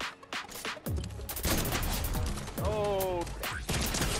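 Rapid gunfire bursts ring out in a Team Rumble battle royale video game, sharp cracks scattered across the clip over a busy game soundscape, with a player talking throughout.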